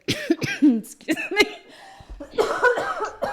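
A few short, harsh coughs burst out near the microphone, mixed in with a person talking.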